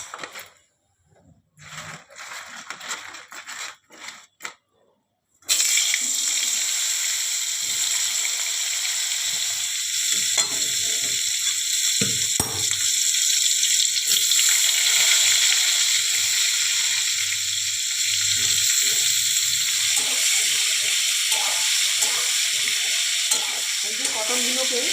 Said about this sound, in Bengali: এই যে পটলগুলোকে আমি হালকা ভেজে নিলাম।